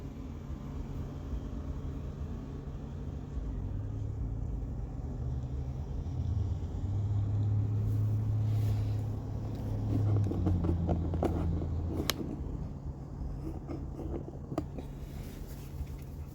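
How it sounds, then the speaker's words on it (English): Thomas Built and Blue Bird school buses pull in nearby, their diesel engines giving a steady low rumble that swells and fades as they move, with some brake and air noises over distant traffic. "And a couple more buses have pulled in behind me."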